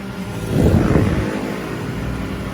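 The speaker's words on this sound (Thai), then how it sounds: "ช้าเร็วขึ้นอยู่กับเราเร่งเครื่องนะฮะ" A Toyota 7FG20 forklift engine rises in a close, loud rev around the half-second mark, then settles back to a steady mid-pitched idle rumble.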